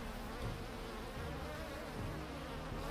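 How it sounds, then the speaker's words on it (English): A swarm of bees buzzes steadily in the video game Heroes of Hammerwatch, a dense, continuous droning hum with no voices over it. "Queen Iris gave us the bees"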